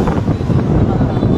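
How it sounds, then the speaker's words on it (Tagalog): Strong wind buffets the microphone in a loud, steady low rumble at a fire scene in a Tondo, Manila neighborhood, with faint voices underneath. "Ang lakas ng hangin, oh."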